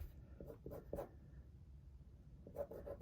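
Pen on paper drawing a large star in a budget notebook, a few quick scratchy strokes at the start and again near the end, soft and close, with quiet room tone between and no speech.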